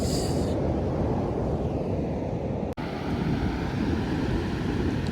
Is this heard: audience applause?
no